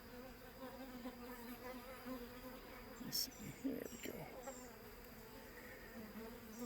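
Robber bees swarm around an abandoned beehive outdoors, giving a steady, close insect buzz that rises and falls as individual bees pass near, while a person speaks briefly in the middle.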